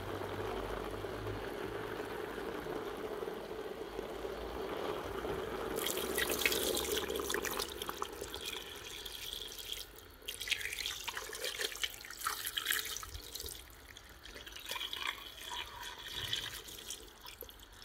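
Hot water is poured steadily into a pot for a Marrakech tanjia of beef shank with garlic. The stream runs continuously for nearly eighteen seconds, its splashing tone shifting midway as the pot fills.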